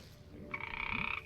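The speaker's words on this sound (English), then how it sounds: "Oh, it's a frog." A frog in the modded Minecraft pack SevTech Ages croaks in a short, close burst of rapid ribbed pulses, alone over faint game ambience.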